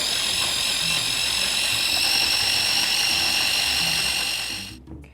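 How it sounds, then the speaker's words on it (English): A blender grinds capers and nori into a creamy Caesar salad dressing, a loud, steady high whir lasting several seconds before cutting off abruptly, heard alone without talk. "And time to grind it up."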